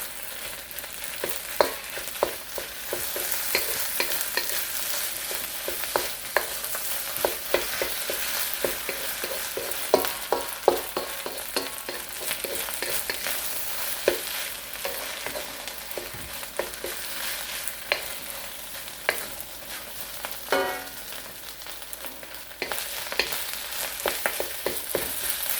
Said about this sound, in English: It's constantly stirring.